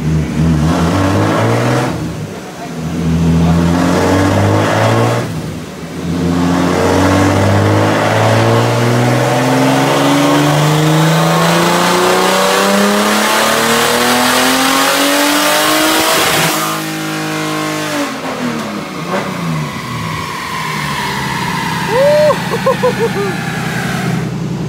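Turbocharged BMW E36 with an M50 engine on a dyno pull, revving loudly and rising steadily in pitch for about sixteen seconds, then dropping off to a lower idle with a brief spool whine near the end.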